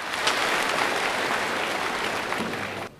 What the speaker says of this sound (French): Clap for Jesus Christ. Applaudissez pour Jésus.